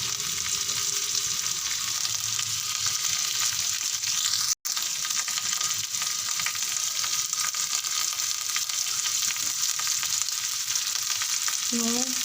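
Tomatoes with ginger paste, chili paste, salt and spices sizzle and fry steadily in a pan while being stirred, a dense continuous crackle with one brief dropout partway through.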